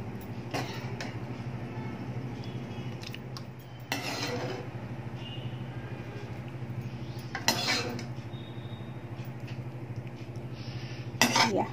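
Fish and cauliflower curry spooned from a cooking pot into another bowl, with a few sharp clinks of utensil on metal and ceramic over a steady low kitchen hum, near and moderately loud.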